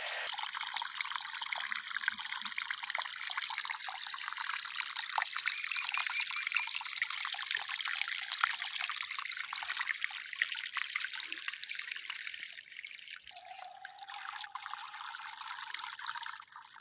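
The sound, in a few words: water pouring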